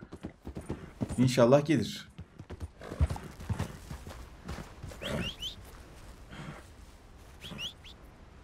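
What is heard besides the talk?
horse hooves in video game Red Dead Redemption 2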